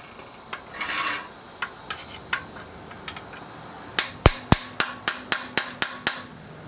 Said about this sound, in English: give it a few whacks with a hammer.